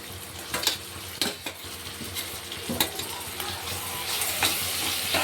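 Onion and tomato fry in a pan for a spicy village-style matki curry, a close sizzle punctuated by repeated sharp scrapes and knocks of a spoon stirring against the pan, with no speech.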